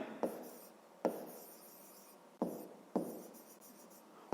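Pen strokes scratch across paper while a maths solution is written out, short separate scribbles starting in sharp bursts, quiet and close with no talking.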